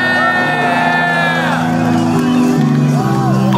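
A festival crowd at Ultra Music Festival 2011 in Miami cheers, whoops and shouts during a set. The roar is loud, dense and sustained, with music running underneath.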